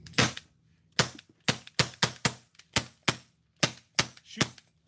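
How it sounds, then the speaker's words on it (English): A Pepperball Life Light launcher fires blanks in a string of nine sharp, loud cracks, spaced unevenly over about five seconds, each with a quick decaying tail and no talking. "Shooting blanks."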